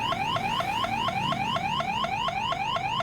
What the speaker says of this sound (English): They also have an alarm siren to scare away any intruders.